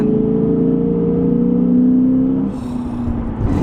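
A 2022 Lexus IS500 V8 engine revving loud and close, a sustained rising drone that drops off as the car eases, then a rush of wind and road noise.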